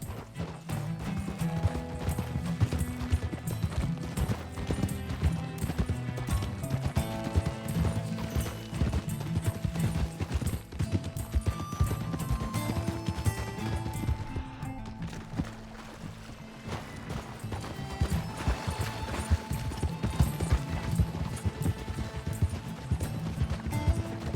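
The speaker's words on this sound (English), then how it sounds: "Get a hold of that horse, Arthur." Steady clip-clop of horse hooves trotting along a shore in the video game Red Dead Redemption 2, beneath continuous layered music, the hoofbeats even and unbroken throughout.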